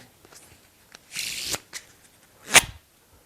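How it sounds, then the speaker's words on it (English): Playing cards are riffled in a false Filipino shuffle close up, with a few quick bursts of crisp fluttering and a final snap. "It is at this point I go into the false Filipino shuffle"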